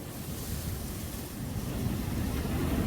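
Strong gale-warning wind sweeping a campsite where a tent keeps getting blown over, a loud, steady roaring rush that fills the whole clip with no one talking.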